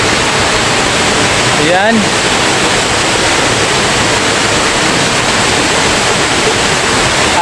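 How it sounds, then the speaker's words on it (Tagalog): Taluntunan Falls in Barangay Manugtong, Ayungon, Negros Oriental roars as a steady, loud broadband rush of falling water that fills the whole clip, with a brief spoken word near the start. "Ayan, Taluntunan Falls."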